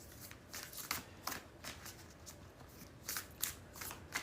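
Tarot cards are shuffled by hand in quiet repeated bursts, a crisp riffling that comes in several short rounds with brief pauses between them.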